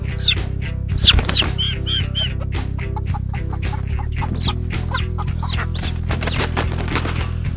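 Barred Rock chicks and chickens cluck and chirp in a busy, overlapping stream close by, with steady low background hum throughout.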